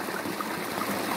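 A creek flows at night with a soft, steady babble of running water, gentle and continuous with no voices.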